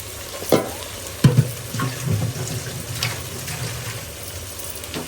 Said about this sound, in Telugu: నెక్స్ట్ చికెన్ వేసేస్తుంది ఈ మసాలాలోని బాగా ఫ్రై అవుతుందన్నమాట